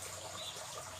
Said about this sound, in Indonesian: Pagi ini ditemani gemericik